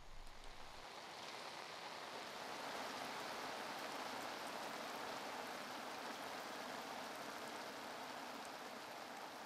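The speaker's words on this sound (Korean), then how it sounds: "비가 내리기 시작한다." Rain starts falling at a reservoir during a fishing session, a steady soft hiss of drops on water and surrounding surfaces that continues evenly throughout, moderately faint and without voices.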